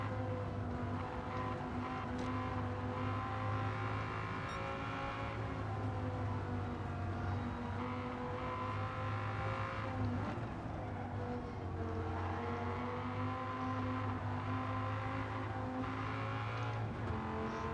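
A Dodge Viper GTS races on the Tokyo Expressway in Gran Turismo 7, its engine a continuous loud drone that rises and falls as it shifts, with no talk over it.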